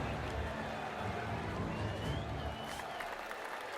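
In the golf game PGA Tour 2K23, a dense wash of crowd cheering and applause roars steadily across the whole moment, broad and noisy with no single voice standing out.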